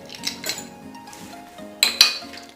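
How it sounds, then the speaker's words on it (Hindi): Four ice cubes dropping into a blender jar holding peanuts, lemon juice and salt for a coriander-mint chutney, giving a few sharp clinks and rattles, the last two louder and close. "और यहाँ पर मैं 4 आइस क्यूब डाल दूंगी।"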